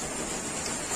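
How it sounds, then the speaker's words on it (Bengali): Rain falls outside in a dense, even hiss, with no distinct drops standing out over the short moment. "বৃষ্টির আওয়াজটা হয়তো শুনতেই পাচ্ছ"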